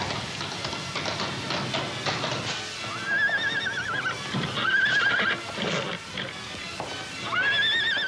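Racehorses neighing on grass gallop tracks before a race, several shrill whinnies rising and falling over a bed of hoofbeats and movement.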